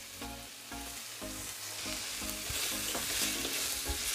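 Shredded cod and paprika are stirred in a hot pan, a close, continuous sizzle broken by repeated rhythmic scrapes of the utensil against the pan, with no voices.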